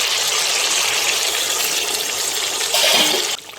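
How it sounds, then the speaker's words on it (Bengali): Water from a rinsed spice bowl gushes into a cooking pan of Bengali fish curry, a steady rushing pour that swells briefly near the end before cutting off. "মশলার বাটি ধুয়ে অল্প করে জল দিয়ে দিচ্ছি।"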